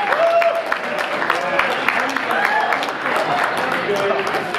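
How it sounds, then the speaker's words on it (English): Applause for staff members at a Panera event, a crowd clapping steadily and fairly loud while voices and cheers carry over the top throughout. "Let's give them all a round of applause"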